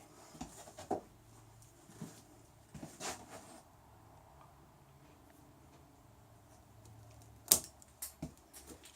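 Cutting off protruding pins while fitting the fingerboard on a handmade guitar neck, heard as a few sharp, sparse clicks and snips separated by quiet handling noise and light shuffling, close and fairly faint.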